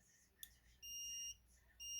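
An electronic buzzer driven by a time delay relay sounds in two steady, loud tonal bursts, each roughly half a second long, with a short click just before the first and quiet gaps between them.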